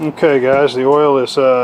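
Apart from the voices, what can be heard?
No everyday noise stands out behind the speech.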